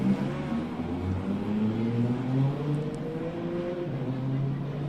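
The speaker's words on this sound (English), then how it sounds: "From there, the acceleration of this car is immense" A Nissan R35 GT-R with its 3.8-litre six-cylinder pulls hard from a launch at a hillclimb, a steady rising engine roar heard from a distance with gears climbing in pitch.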